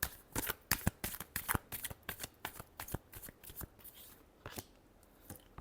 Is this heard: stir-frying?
no